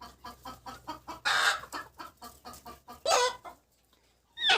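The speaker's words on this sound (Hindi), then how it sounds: "फाइनली मैंने मुर्गी पकड़ ली है, खुड़क मुर्गी" A broody hen clucks repeatedly in quick, close bursts, with a couple of louder squawks breaking the steady rhythm.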